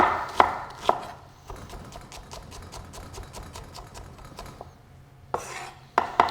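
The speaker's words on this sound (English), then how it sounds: "we're going to dice some onion and fennel up. Just do a nice little small dice on that." A knife dices onion and fennel on a cutting board for creamed spinach, giving a quick run of light, rhythmic taps that open and close with heavier, sharper chops.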